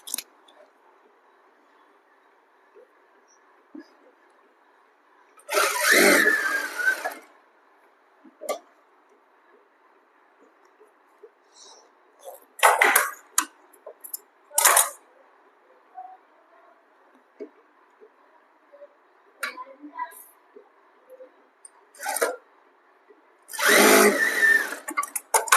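A sewing machine stitching cloth onto the edge of a canvas for a flat kurti collar, heard as several separate bursts of rapid whirring with quiet gaps and small clicks between them.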